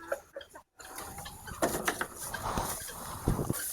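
Brahma chickens clucking at feeding time on a farm, soft close clucks and scratchy rustling, with louder bursts of activity toward the end and no speech.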